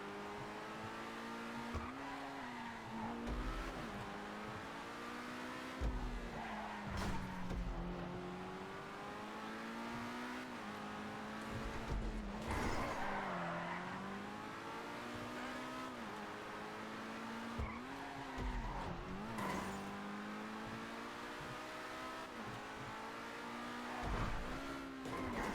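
Race cars hot-lap a track in a series of fairly faint, distant passes. The engine notes climb and drop in pitch again and again as each car accelerates and brakes, with occasional tire squeal.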